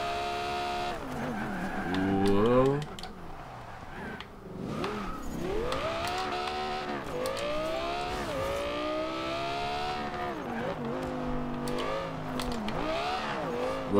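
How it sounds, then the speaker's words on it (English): A 2013 Audi R8 in Forza Horizon 2 revs hard through gear shifts as its tires spin and squeal, the engine pitch sweeping up and down in repeated surges, loud and up close. "Whoops, got a little bit more wheel spin there from shifting."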